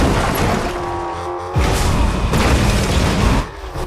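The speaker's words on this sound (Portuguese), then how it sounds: "Essas explosões naturais aqui." Explosions in the Fortnite video game near a gas station, heavy booming blasts with crashing debris filling the clip, one loud burst near the middle followed by a sustained rumbling stretch.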